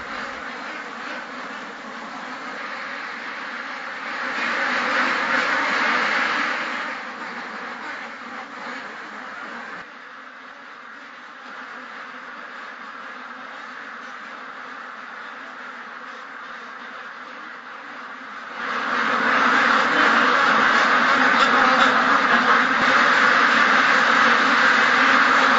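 Many ducks quack continuously inside an enclosed commercial duck farm shed, a dense, steady chorus that swells louder in places and carries no voices.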